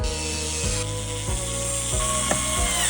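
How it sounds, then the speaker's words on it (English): Ratchet tightening fasteners while refitting parts on a van, a close, steady series of clicking pawl strokes with a few sharper knocks, no talking. "I will now tighten those and I'm done."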